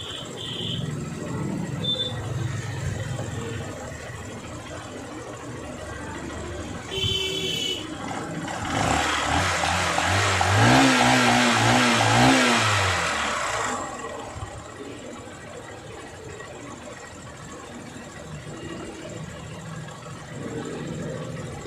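A Honda Shine motorcycle engine holds a steady idle-like speed, neither rising nor falling, with a continuous mid-pitched hum. A brief honk-like tone and a louder passage come through midway.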